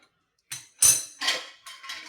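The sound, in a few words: placing cake tin on rack inside pressure cooker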